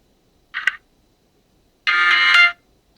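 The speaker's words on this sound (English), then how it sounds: "that's the song, and it plays from my watch" A Huawei GT 2 smartwatch speaker plays two short tonal bursts of a song: a brief blip, then a louder, sustained half-second phrase after a pause, thin and close in an otherwise quiet room.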